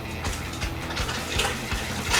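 Water pours steadily into a container marked for 8 cups while brine for fermented hot sauce is being made, a close, continuous splashing stream with small gurgling surges.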